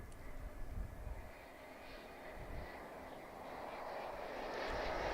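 An Airbus A350 at Chicago O'Hare airport, a faint distant jet engine roar that builds steadily and grows slightly louder toward the end.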